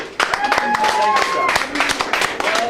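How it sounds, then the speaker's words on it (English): During a school debate event, an audience gives a short round of applause for a visiting guest, with scattered, uneven claps close by and voices talking through it. "Please, a round of applause for him."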